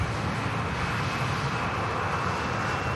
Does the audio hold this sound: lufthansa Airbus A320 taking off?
yes